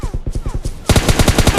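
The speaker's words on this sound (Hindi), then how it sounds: "मैं सीट शिफ्ट करता हूँ और गोलियां चलाता हूँ" DP-28 and MK14 gunfire in a video game: a rapid burst of evenly spaced shots, then a louder, sharper string of rounds that fires continuously to the end.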